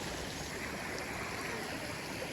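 Water rushes steadily in a stream below a tank overflow near Madanapalle, a constant broadband gurgling flow without pauses, fairly quiet and close.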